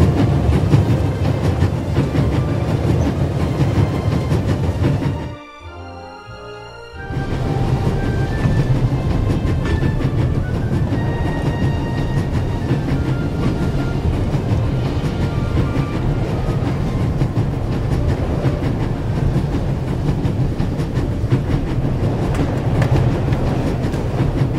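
Steady rumbling train noise in the video game The Raven: Legacy of a Master Thief, with a rhythmic clatter of wheels on rails, continuous and fairly loud, with a brief dip into near silence partway through.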